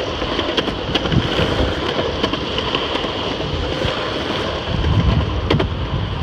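A skateboard rolls through Hurricane Matthew, with blustery wind buffeting the microphone and a rough, continuous roar of wheels on wet pavement, plus a few sharp knocks and clacks from bumps, no voices.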